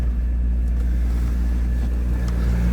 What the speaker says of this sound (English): A little bit of high idle.